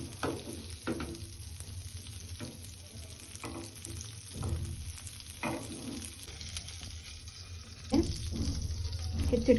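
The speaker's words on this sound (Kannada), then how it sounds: "ಹೆಚ್ಚಿಟ್ಕೊಂಡಿರೋ ಈರುಳ್ಳಿ, ಕ್ಯಾಪ್ಸಿಕಮ್ ಹಾಗೆ ಕ್ಯಾರೆಟ್ ಹಾಕ್ತಾ ಇದ್ದೀನಿ" Chopped onion, capsicum and carrot fry in butter in a large pan for veg pasta, giving a steady close sizzle with intermittent stirring scrapes and clatter that builds louder near the end; no speech.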